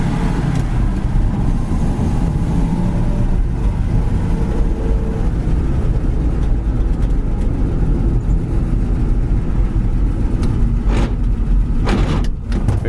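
A 1955 Chevrolet Cameo pickup truck with a non-synchro gearbox pulls away in first, its engine a loud, steady, close roar that holds without a break and carries no voices.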